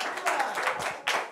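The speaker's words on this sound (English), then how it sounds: "Round of applause for those folks joining us." A studio audience claps and applauds for guests joining a live program, a brief burst of scattered hand claps at moderate distance, rising again near the end with no talk over it.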